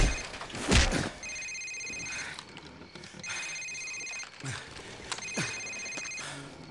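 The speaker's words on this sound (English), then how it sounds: "Sir, it's his cell phone." Cell phone ringing in Call of Duty 4: Modern Warfare, a repeating electronic ring in evenly spaced bursts amid scuffling and impact sounds, with no voices over it.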